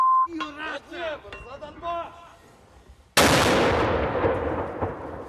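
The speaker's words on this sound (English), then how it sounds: "Inside the town, Ukrainian troops lobbing mortars and obscenities." Ukrainian troops fire mortars in a town: after shouted voices, one sudden loud blast hits and its booming echo rolls away over several seconds.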